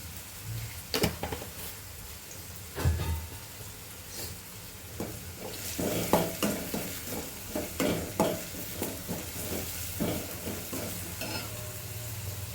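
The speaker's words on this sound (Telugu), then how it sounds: "సో ఇది ఆనియన్ అనేది మొత్తం మగ్గిపోయేంత వరకు పెట్టుకోవాలి, ఫ్రై చేసుకోవాలి మనము" Onions frying in a pan for soya Manchurian, a steady sizzle under repeated sharp scrapes and clinks of a spoon stirring against the pan, with no talking.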